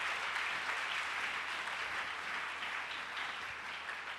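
A church congregation bursts into sustained applause acclaiming the Lord, dense and steady clapping filling the room for several seconds with no speech over it.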